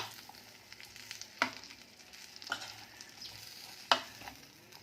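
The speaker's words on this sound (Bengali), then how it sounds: "আস্তে আস্তে এটাকে মিক্স করতে হবে।" A chicken choila mixture with garlic and fenugreek is stirred in a pan, giving a soft sizzle broken by three or four sharper scraping knocks of the spoon, close and fairly quiet, with no talking.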